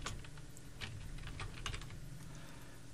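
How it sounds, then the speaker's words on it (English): Quiet, close clatter of fingers on a PC keyboard, a quick irregular run of soft key taps over a few seconds with no talking. "I'm going to put my cursor in there and I'm going to type in a job title."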